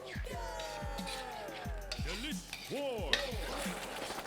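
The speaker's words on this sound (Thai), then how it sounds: "ผมจะเคี่ยวให้ข้นลงเล็กน้อยครับ" Sauce bubbles and sizzles gently in a pan while a spoon scrapes and stirs, with someone talking over it.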